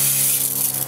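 A repurposed spray bottle working as a drip-irrigation mister gives off a steady, close, hissing mist of water, continuous and unbroken for the whole short burst.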